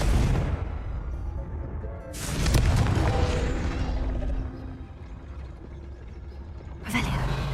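A Confringo fire-blast spell explodes in the Hogwarts Legacy video game: a deep booming burst, then a rumbling roar that fades, and another sharp blast near the end.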